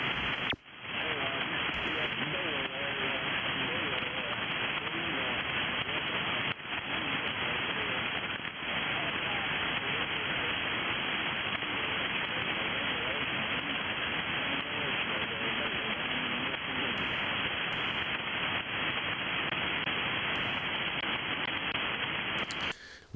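Atmospheric static crackles and hisses on the 40-meter ham radio band, a steady, dense wash of noise that fills the whole stretch with fine crackling and never lets up.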